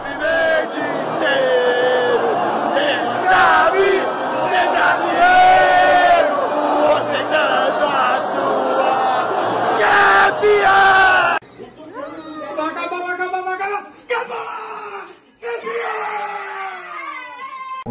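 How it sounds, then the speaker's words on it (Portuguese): Palmeiras supporters in a stadium crowd sing and cheer loudly and continuously, a dense wall of voices with chants rising and falling; after a cut, quieter crowd noise with scattered shouts continues. "Torcida que canta e vibra"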